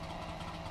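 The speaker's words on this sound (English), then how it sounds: "Okay, the engine started this time." A car engine in a driving survival video game runs at a steady low rumble, a brief continuous idle-like drone with no other sounds over it.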